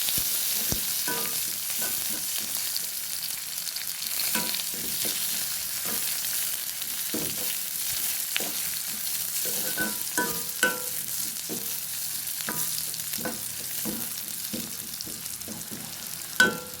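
Mustard seeds, green chili and curry leaves frying in a pan for a Sri Lankan radish curry, a soft steady sizzle broken by scattered light pops and clinks of stirring, moderately quiet with no voices.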